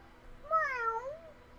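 A pet cat gives a single clear meow, rising and then falling over about a second, close and fairly loud against a quiet room.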